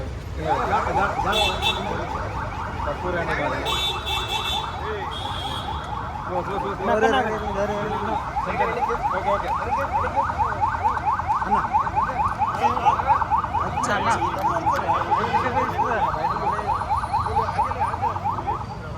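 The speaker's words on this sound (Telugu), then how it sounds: "పోలీస్ స్టేషన్ సైరన్ వినిపిస్తుంటే కూడా పక్క జరగట్లేదు" A police siren near a police station in Hyderabad wails in a steady, fast pulsing cycle, loud and close for the whole stretch, with crowd noise and voices mixed underneath.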